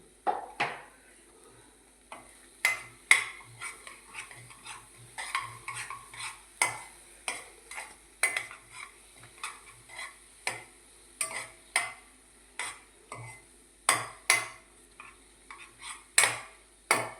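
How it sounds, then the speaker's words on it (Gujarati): A spoon stirs a spiced dal mixture with turmeric and salt in a pan, giving a long run of close, repeated scraping clinks and knocks in an irregular rhythm, with no one talking. "હવે મિક્સ કરી લઈ બધું"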